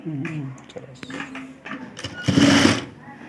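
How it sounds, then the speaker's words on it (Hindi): A sewing machine stitches a folded neck strip on a blouse in short bursts of running needle noise, loudest near the end, with brief handling sounds between. "अब हमें इस तरह से इस पट्टी को फोल्ड करके सिलाई करनी है"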